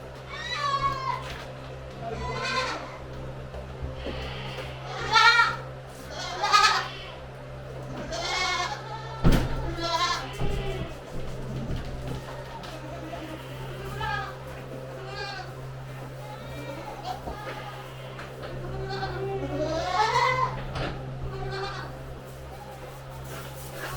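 Newborn heifer calf bleats repeatedly in short, wavering calls at close range, spread across the stretch over a steady low barn hum, with occasional soft human voices nearby.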